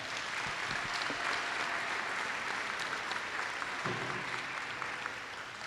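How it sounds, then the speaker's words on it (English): Audience applause fills a school signing day ceremony for student athletes at Chandler High School, a steady, dense clapping from a large crowd that holds evenly throughout without pause. "So let's give them all one round of applause."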